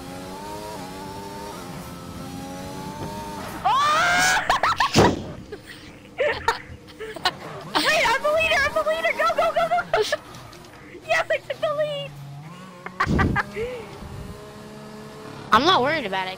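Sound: F1 2021 video game race car engine revving

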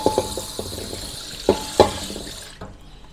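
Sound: rinsing with plain water, pouring it out

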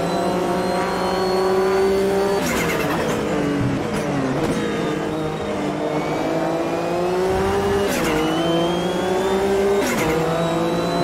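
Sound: race car wheel spin in Automobilista 2 video game

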